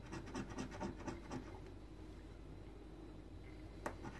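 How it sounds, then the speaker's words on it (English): Coin scraping across a lotto scratch card, a faint, continuous gritty rubbing with quick strokes near the start, then softer scratching throughout. "They're not scratching these this good with this coin today."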